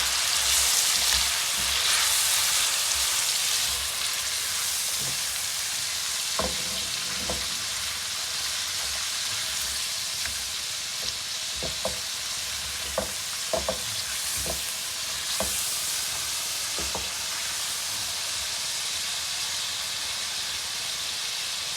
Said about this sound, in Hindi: अब जी टमाटर ऐड कर देंगे इसमें, इसको भी भून लेंगे अच्छी तरह।